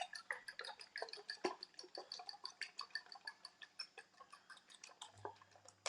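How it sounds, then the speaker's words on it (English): A fork beats eggs in a bowl for omelette filling for breakfast burritos, a quick steady run of light clinking taps, close and fairly faint, with no talking. "Whisk those up."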